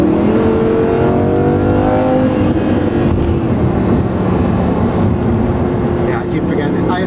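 Engine of a Lamborghini Huracan LP 580-2 rises in pitch as the car accelerates, a steady loud drone heard from inside the cabin while a person talks over it.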